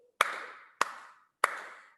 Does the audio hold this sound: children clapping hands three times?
yes